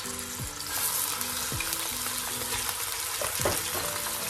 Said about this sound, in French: Maintenant, on va mettre nos morceaux de pintade à faire dorer.